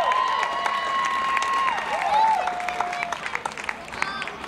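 Audience applause and cheering for a band at a June 2018 music festival, with sustained dense clapping and a long shrill whistle riding on top, loud and steady throughout.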